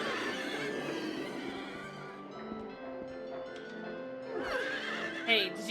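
A horse neighs in the game Silent Hill 3, a loud whinny at the start and another near the end, with faint hoof clops and a low ambient drone between them.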